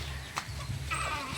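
Young male Parawakan chickens, roosters, make clucking calls in a farm enclosure, faint over steady low background noise, with a brief sharper call near the start and another near the end.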